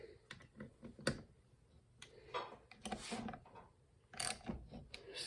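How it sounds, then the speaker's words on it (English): A ratchet snugging down bolts on a 700R4 transmission during a rebuild, giving irregular ticking clicks and short ratcheting bursts with pauses between strokes, close by in a quiet shop. "So let's start snugging bolts down."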